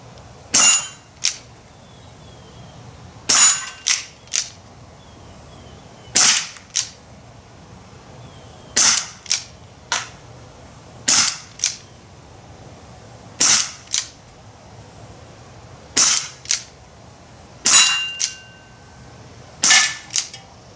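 An Umarex Brodax BB revolver fires a long series of sharp, loud shots, each snap followed by a quick metallic target hit, spaced a second or two apart, outdoors with no talking.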